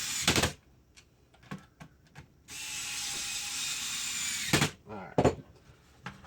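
Screws being driven back into a game console by a small powered driver, a steady whirring run of about two seconds, set among close clicks and handling taps, with voices briefly heard nearby.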